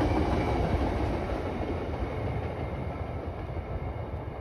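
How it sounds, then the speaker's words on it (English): A VIA Rail passenger train rolls past steadily in Etobicoke, Toronto, its rumble and wheel noise continuous and fairly close, gradually easing slightly toward the end. "Let's watch this Via train go,"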